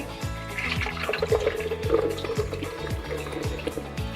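Pınar milk pours steadily into a glass for iced coffee, a soft, close liquid splash and gurgle with faint background clatter.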